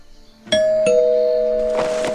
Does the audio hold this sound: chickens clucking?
no